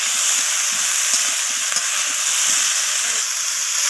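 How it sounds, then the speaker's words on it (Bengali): Pumpkin, eggplant, potato and spices with turmeric fry in a hot pan, a loud, steady sizzle with soft scraping and stirring knocks coming through it from start to finish. "এর সাথে মিশিয়ে নিয়ে ভাজা ভাজা করে নিচ্ছি"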